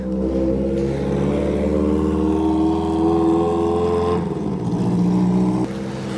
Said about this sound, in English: Oh, Ferrari pulling up.